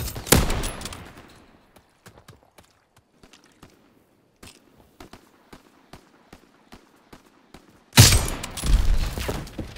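Gunfire in the World War II shooter Call of Duty: WW2, loud bursts at the start and near the end framing a stretch of sparse, sharp single shots and footsteps in between.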